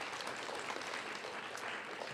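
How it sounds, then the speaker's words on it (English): An audience at a school spoken word poetry event for grades 9 and 10 claps for a poet, a steady, even wash of applause from many hands, fairly distant and unbroken for about two seconds. "Applaud the poet, not the points."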